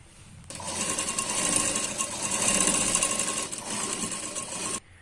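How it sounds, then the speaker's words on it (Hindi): A sewing machine stitches the cups of a double katori blouse together in one continuous close, loud run that starts abruptly and stops sharply near the end. "देखिए हमें यहाँ पे इसे सिलाई लगाना है।"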